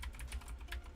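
Rapid clicking of a computer keyboard being typed on, a steady stream of close keystrokes over a low background hum.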